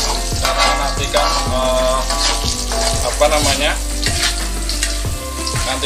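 Salted fish stirs and fries in a pan, giving a steady loud sizzle broken by regular scraping strokes of the spatula, close by and without talk.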